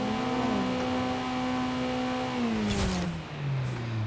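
A Lynk & Co 03+ 2021 widebody car engine in Forza Horizon 5 hums at a steady pitch, then a brief sharp hiss of turbo blow-off bursts out as the engine note drops.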